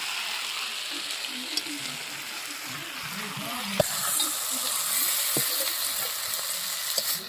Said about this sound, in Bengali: কষানো প্রায় হয়ে গেছে, আর অল্প কিছুক্ষণ কষানো হয়ে যাবে